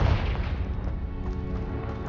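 A Confringo blasting spell explodes in Hogwarts Legacy, a low heavy boom right at the start followed by a rumbling decay over about two seconds.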